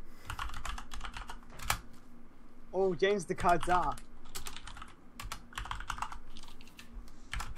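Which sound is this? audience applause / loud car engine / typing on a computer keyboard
typing on a computer keyboard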